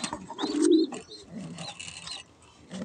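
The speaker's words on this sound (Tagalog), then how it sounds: "Mahilig ako sa mga cute na kalapate." Pigeons coo close by in a breeder's loft, a couple of low throaty coos with faint chirps and rustling in the background.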